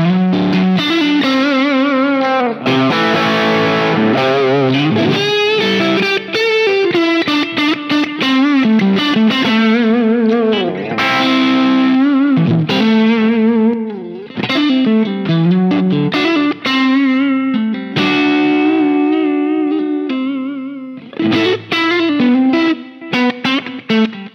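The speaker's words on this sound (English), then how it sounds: "I just hit the boost, and that is gonna give me a little level boost just to hit the amp a little bit harder" An electric guitar runs through an overdrive pedal with the boost engaged, pushing the amp into a crunchy, driven tone. Loud chords and riffs ring out with short pauses between phrases, and nobody speaks.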